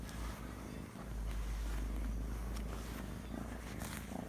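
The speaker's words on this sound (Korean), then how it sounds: "우리 고양이가 이렇게 해피가 이렇게 저를 맞이해주고 있습니다" A domestic cat purrs steadily at close range, a low continuous rumble that swells slightly after the first second and holds at an even level, with no voices over it.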